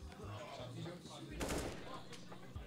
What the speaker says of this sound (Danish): Så kan Magnum lægge nogle skud her.